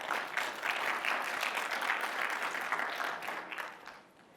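A conference session audience applauds, giving a steady, even patter of many clapping hands that holds for several seconds and then fades out toward the end.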